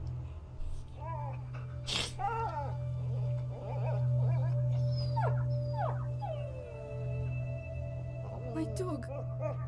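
Dog whimpering and a drawn-out howl in the game A Plague Tale: Innocence, rising over a steady low drone with voices talking around it across the whole stretch.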